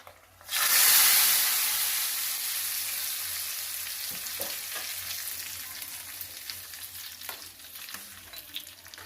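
Dal hits a hot pan of frying eggplant and tomato with a loud burst of sizzling hiss, then settles into steady frying and sizzling with occasional stirring scrapes, close and without talk.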